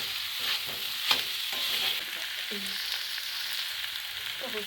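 Snail curry fries and sizzles in a pan in a village kitchen while a utensil stirs it, giving a steady hiss broken by occasional scraping knocks, close and moderately loud with no talk.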